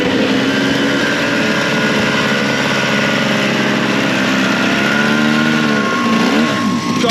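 An old racing motorcycle engine runs loud and close at a superbike racing event, with a continuous throaty drone and slight shifts in pitch toward the end.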